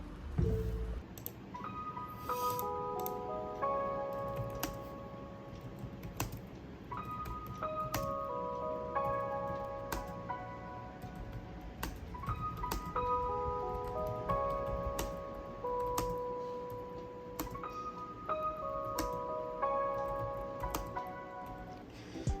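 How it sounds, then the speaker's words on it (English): Typing on a Logitech K380 wireless keyboard: steady, quiet key clicks tapping in quick irregular runs, heard close, with faint melodic tones repeating in the background. "let me show you a close-up of the typing experience"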